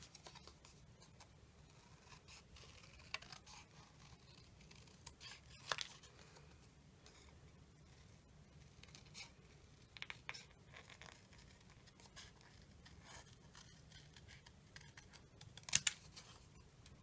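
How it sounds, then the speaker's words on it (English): Paper snips cut out a paper card piece for a handmade Harry Potter card, quiet scattered snips and small crisp clicks against a faint background, with a few louder cuts. "So I'm going to grab my paper snips here."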